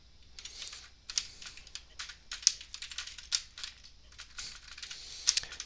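Typing on a computer keyboard comes through as quiet, irregular bursts of clicky keystrokes, close and distinct against near silence, with short pauses between flurries.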